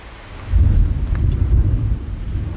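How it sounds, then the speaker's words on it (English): Thunder rumbles as a deep, loud roll that swells after a quiet start and keeps grumbling in uneven surges, with no voices over it. "Hear that thunder?"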